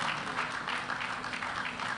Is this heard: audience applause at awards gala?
yes